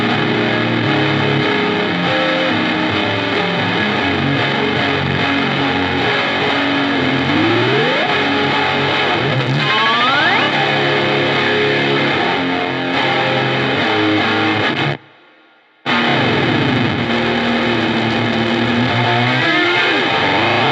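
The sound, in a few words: fuzz guitar pedal with oscillation circuit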